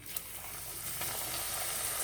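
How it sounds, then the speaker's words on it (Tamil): Diamond chips frying in hot oil, a faint, even, continuous sizzle with one small tap near the start, steady throughout and free of talk. "இந்த மாதிரி எண்ணெயில் போட்டு பொரித்து எடுத்துக்கலாம்"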